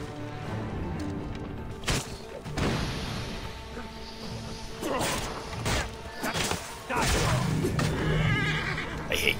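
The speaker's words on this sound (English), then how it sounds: "use smoke bombs, because it actually sends the horses off into a frenzy" Panicked horses neighing and whinnying in frenzy during an Assassin's Creed Origins game scene, mixed with sharp whacks, crashes and whooshes, with several loud bursts scattered over about nine seconds.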